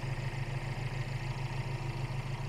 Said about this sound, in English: And just listen to how nice and quiet it idles.